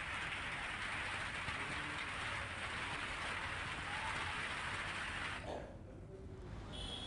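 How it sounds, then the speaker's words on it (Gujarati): Light unseasonal rain falls steadily in Gujarat as an even, close hiss that continues for most of the stretch, then drops sharply to a quieter patter near the end. "વિવિધ વિસ્તારોમાં ધીમી ધારે વરસાદ થયો હતો"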